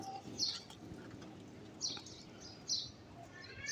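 Pigeons in a breeder's loft give faint, scattered chirps, about three brief calls standing out over quiet background noise.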